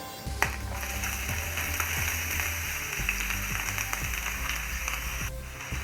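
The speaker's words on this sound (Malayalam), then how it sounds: "സവോള നമുക്ക് വഴറ്റിയെടുക്കണം" Four thinly sliced onions sautéing in a pan, a steady close sizzle with faint scattered clicks and stirring scrapes, no speech.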